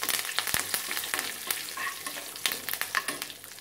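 Curry leaves crackle and sizzle in hot oil for a bone curry, a dense close frying hiss with sharp spitting pops scattered throughout.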